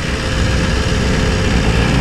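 A 2024 BMW S1000RR sport motorcycle runs with a valvetrain tapping fault. The engine makes a loud, close, continuous drone that stays steady throughout.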